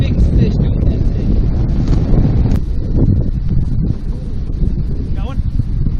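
Strong wind buffets the microphone on a river fishing boat in fall, a steady low roaring rumble running the whole time with faint rustle and water noise behind it.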